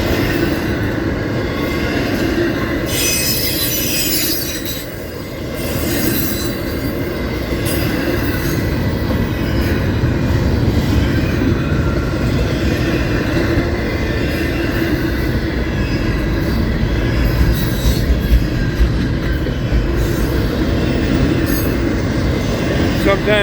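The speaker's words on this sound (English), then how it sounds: "it's a big long intermodal train." A long CSX intermodal freight train rolls past at Folkston, close and loud, with a steady heavy rumble of wheels and cars and occasional high wheel squeals running throughout the whole stretch.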